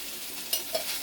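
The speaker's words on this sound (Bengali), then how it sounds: "মশলাটা একটুখানি ভেজে নিই" Ground spices such as cumin, turmeric and salt fry in a pan with a soft, steady sizzle, while two quick scraping stir strokes stand out near the end.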